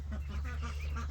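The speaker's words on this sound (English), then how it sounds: "It's duck central in here now." Ducks and baby ducklings crowded in an enclosure give a few faint, brief quacks over a steady low hum, with no one talking.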